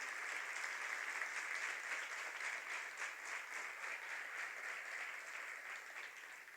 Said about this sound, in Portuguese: Podem dizer amém e dar um aplauso ao Espírito Santo de Deus.